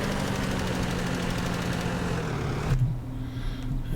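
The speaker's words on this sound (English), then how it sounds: "We have both trucks servicing the tractors as they run backwards and forwards up and down the fields" Tractor engines in Farming Simulator 17 on frozen fields at Lawfolds, Aberdeenshire, a steady mid-pitched diesel drone with a low hum, running continuously, then dropping to a quieter idle near the end.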